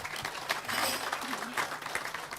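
An audience at a talk in Indonesia claps for about two and a half seconds, a steady, moderately loud wash of applause with no voice standing out.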